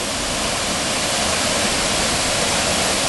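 Ingleton Waterfalls in the Yorkshire Dales roar as a loud, continuous broadband rush of falling water, heard close up from the steps at the top of the falls with no break or other sound.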